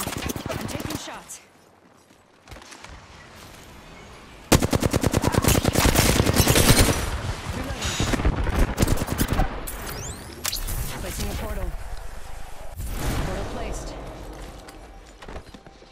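Rapid bursts of automatic gunfire crackle through an Apex Legends firefight, loud and near in dense volleys with shorter gaps, while a player talks over the shooting.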